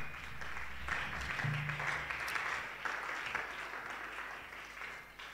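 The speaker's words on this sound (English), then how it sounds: "That clap can be louder. That clap can be stronger." A church congregation clapping during a sermon, a continuous dense patter of hands that swells slightly and carries on steadily, with faint tones and hum from the sound system beneath.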